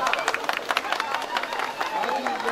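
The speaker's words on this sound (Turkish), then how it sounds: "yeni şeflerimize şöyle kuvvetli bir alkış gelsin" Wedding guests clap for the newlywed couple at a Turkish village wedding celebration, a brisk crowd applause with uneven claps and background chatter throughout.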